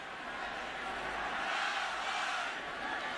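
A home crowd cheering at a 2014 Arkansas at Texas Tech college football game, a broad, distant roar of stadium noise holding steady throughout.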